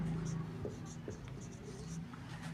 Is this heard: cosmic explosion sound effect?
no